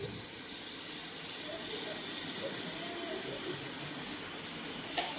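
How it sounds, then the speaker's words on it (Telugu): Water is poured steadily into an Andhra-style fish curry with tamarind juice, a soft, continuous splashing rush lasting several seconds, fairly faint and without speech. "ఆ ముక్కలో సరిపోని వాటర్ పోసుకోవాలి."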